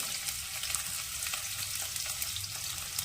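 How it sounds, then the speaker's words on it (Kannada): Chopped onion frying in a pan for a red chilli chicken gravy, a steady bright sizzle with light crackles and faint stirring scrapes, close and continuous. "ಆನಿಯನ್ ಹಾಕ್ತಾಯಿದ್ದೀನಿ, ಹೆಚ್ಕೊಂಡಿರೋದು."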